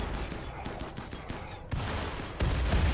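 Rapid gunfire from a Rimworld colony battle, a dense fusillade of sharp shots over a steady background, with heavier impacts thumping in toward the end.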